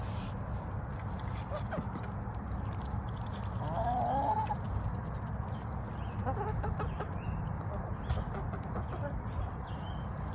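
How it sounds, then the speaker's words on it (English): Poultry at feeding time with a pitchfork nearby, soft clucks and a brief higher call against steady low outdoor background noise, moderately distant. "Chickens know when I pick up the pitchfork that there are treats coming, and they usually come running."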